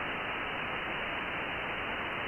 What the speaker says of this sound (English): You can hear the tones coming off the moon.